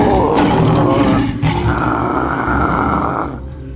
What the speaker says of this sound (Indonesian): Singa-singa itu pun mengaum dengan ganasnya.